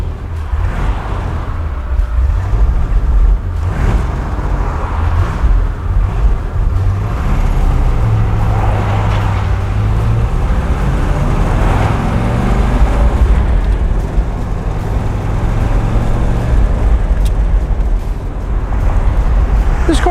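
A fuel-injected 1963 Corvette with 370 gearing and radial tires pulls away under its torquey engine, a steady low rumble heard from inside the cabin throughout, with road noise and a faint voice in the background.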